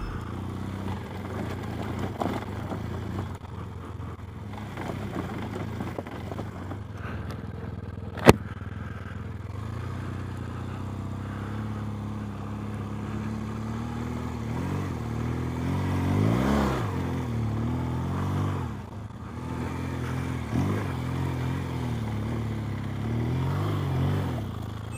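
A trials motorcycle rides from a rock garden through sand on a homemade challenge course. The engine purrs at moderate distance, rising and falling with the throttle, with one sharp knock early on and a stronger revving swell midway.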